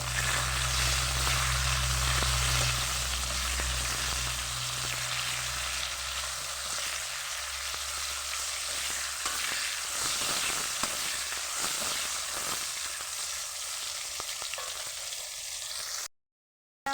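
Bitter gourd sautéed with salt in a pan gives off a steady, close sizzling hiss that runs unbroken for most of the time, with light stirring scrapes mixed in, before cutting out abruptly near the end.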